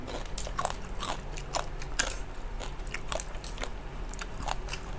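Someone bites and chews spicy cucumber salad with crisp vegetables up close, producing repeated sharp crunches and wet chewing over about five seconds, with no talking.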